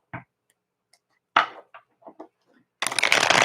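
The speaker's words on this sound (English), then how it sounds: "Just shuffle these cards a little bit here." A few soft taps and handling noises, then a dense burst of rapid papery riffling as tarot cards are shuffled, close and fairly loud.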